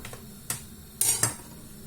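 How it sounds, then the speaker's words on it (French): Msemen dough being cut into four pieces on a counter, three quick sharp knocks of a blade against the surface within a couple of seconds, close and fairly crisp. "Donc, je vais couper ma pâte"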